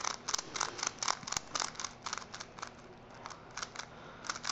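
A Shengshou Megaminx puzzle being turned produces a fast, even series of crisp plastic clicks close by. A short pause comes partway through before the clicking resumes.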